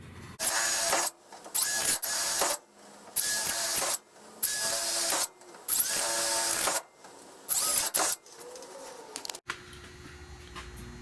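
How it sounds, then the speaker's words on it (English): Repeated bursts of a power drill whining through the metal body of a 1970 Buick Wildcat during rusty window channel repair, several runs of a second or so separated by short pauses, close and loud. "just come in and drill my holes in here"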